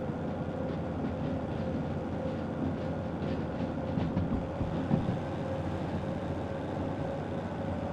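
A train from the game Derail Valley rolls along rails with a steady low rumble and faint clickety-clack, continuous and moderately loud with no talk over it.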